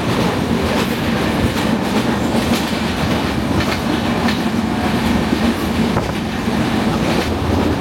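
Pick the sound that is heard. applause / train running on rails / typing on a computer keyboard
train running on rails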